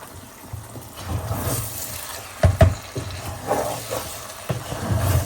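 Raw rice dry-fries in a pan for biryani and pulao, stirred with a utensil. A soft, grainy rustle and hiss continue throughout, with a couple of louder clattering scrapes near the middle.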